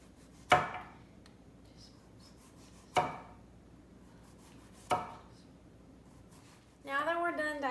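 Three separate sharp knife strokes through a large zucchini on a cutting board, spaced a couple of seconds apart with a quiet room between them, then a brief burst of clattering at the end.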